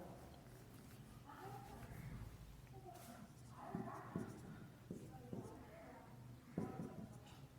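A pen scratches along paper while someone writes out steps of a coordinate geometry problem, with soft strokes and short taps heard close, while someone speaks in Hindi between the marks.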